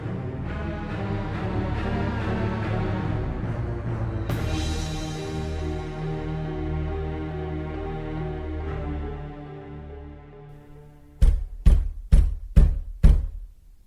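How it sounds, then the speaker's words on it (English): Five sharp knocks on a door land in a steady rhythm near the end, loud and close, rising over a sustained bed of ambient music. "After knocking on the door"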